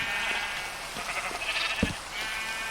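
A sheep bleats a few times in quick, wavering cries over a steady background hum, fairly close and clear, from a game.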